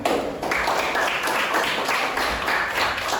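Students in an Islamic studies classroom clap together in a dense, continuous burst of overlapping claps, fairly close and loud, lasting a few seconds.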